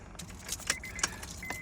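Keys jangle in the ignition of a Honda Accord with a freshly replaced window switch, a few light metallic clinks and rattles close by, spread over under two seconds, with faint car noise beneath.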